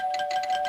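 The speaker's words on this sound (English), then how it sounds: "Even when Peter rings the doorbell" A doorbell rings in an animated Family Guy scene, a brief steady electronic tone with a rapid, pulsing buzz over it, loud and close, lasting under a second.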